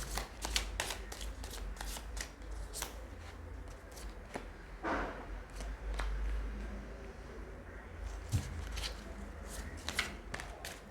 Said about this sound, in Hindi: ओके, कार्ड्स अपने आप ही उठ के गिर रहे हैं।